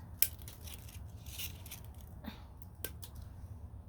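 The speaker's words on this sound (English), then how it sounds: "so I'm gonna trim off some of the leaves" Scissors make a few faint, sharp snips while trimming leaves off hoya cuttings, with quiet handling rustle between the cuts.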